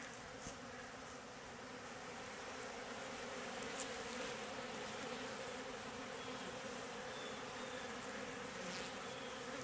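A dense, steady drone of many honeybees robbing honey from freshly extracted comb, a continuous buzzing swarm close by with no voices.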